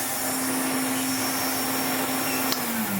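A 1980s Hoover Constellation 867a vacuum cleaner, freshly restored, runs with a steady, loud motor whine and airy rush, with a slight drop in pitch near the end.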